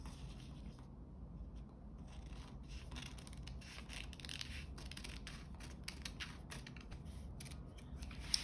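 Scissors snip through a paper pattern to cut out a neckline, quiet, close crisp cuts and rustling paper in a loose, irregular rhythm over a faint background hush.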